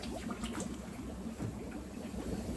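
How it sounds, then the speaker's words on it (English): An aquarium sponge filter with a weighted bottom bubbles in water, making a steady, continuous gurgling wash up close with no pauses and no voices. "And we got bubbles again."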